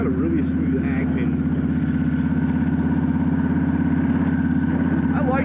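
A Yamaha Vstar 1300 motorcycle on a test ride gives a low, steady, throbbing engine rumble throughout, with someone talking over it.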